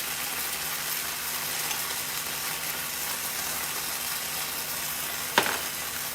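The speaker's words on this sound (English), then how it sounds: "I'm just gonna saute this in the oil, kind of like tomato paste" Thai curry paste sautéing in hot oil in a pan gives a steady, dense sizzle throughout, broken near the end by one sharp spitting pop.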